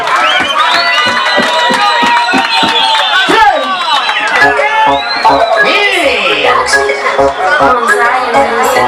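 A bar crowd at the Bodyslam 2 launch at Madhadha Bar & Grill erupts in loud cheering, shouting and whoops, with brisk clapping at the start, all close and continuous throughout.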